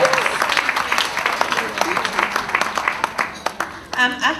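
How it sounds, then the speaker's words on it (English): Conference attendees give a presenter a round of applause: a lively burst of distinct, fairly close claps that rise and thin out over a few seconds, with a voice speaking as it fades. "I think we should give her another round of applause"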